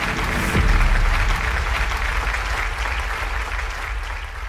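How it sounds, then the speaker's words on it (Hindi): Full studio audience applause welcoming guests onto the KBC 12 television quiz show, a dense continuous wash of clapping that starts strongly and stays steady, loud and enveloping, with no speech. "तालियों के साथ अभिनंदन और स्वागत किया जाए"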